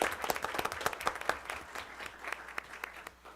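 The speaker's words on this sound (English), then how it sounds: "so we can give her a big round of applause for all her efforts as well." A round of applause from a small group of attendees at a school district board of education meeting, with quick, crisp individual claps overlapping into a moderate, steady patter in a room.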